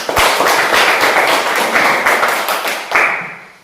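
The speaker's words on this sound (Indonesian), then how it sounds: "Kita beri tepuk tangan untuk kelompok 1" A classroom group in a teacher-training session gives loud, close applause for group 1, with rapid overlapping claps holding steady for about three seconds before stopping abruptly.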